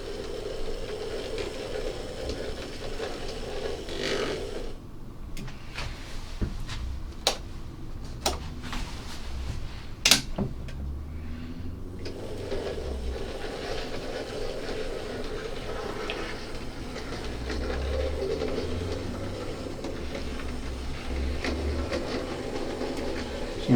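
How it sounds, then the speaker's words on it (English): Hornby Ruston & Hornsby 48DS 0-4-0 model shunter locomotive pushing wagons back over model railway points, giving a steady low motor hum with a cluster of sharp clicks as the wheels cross the pointwork. "I want to run through the points test with these wagons on, so let's back up over the points."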